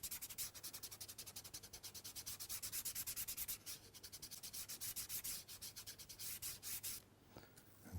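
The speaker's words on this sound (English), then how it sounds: "Rub it in the length of the tree." Pastel stick rubbed back and forth along a tree drawing on paper, a steady run of quick dry scratchy strokes close up, pausing briefly near the end.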